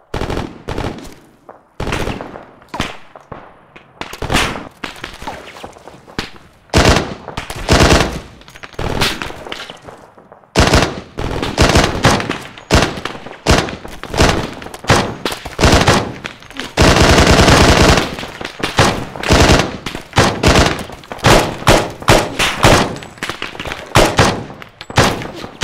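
Rapid video game gunfire crackles in dense bursts of machine gun and rifle shots, loud and close, with brief pauses between volleys and a long sustained stretch of firing partway through.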